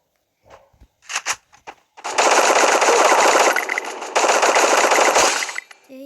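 Rapid automatic gunfire in a shooting video game, two long loud bursts after a few scattered single shots and footsteps.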